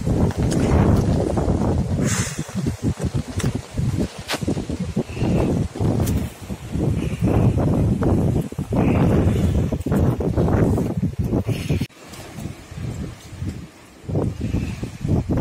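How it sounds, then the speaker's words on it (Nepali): Strong, dangerous wind rushes through a village in a loud, continuous buffeting roar with heavy gusts and rustling, hitting the microphone hard and easing briefly near the end. "डेन्जर यस्तो डेन्जर हावा चल्दा छ हावाहुरी बतासेन"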